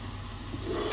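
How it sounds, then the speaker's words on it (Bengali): Lentils (dal) frying in a pan give off a steady, fairly faint sizzle and hiss, continuous through the moment with a slight rise toward the end and no talking. "ডালটা কিন্তু একটু বেশি ভাজা ভাজা করতে হবে।"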